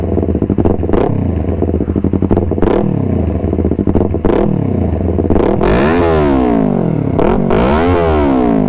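A Yamaha R3 Limited Edition motorcycle with an aftermarket exhaust revs loudly and close up, with repeated sharp throttle blips and then several long rising-and-falling revs toward the end.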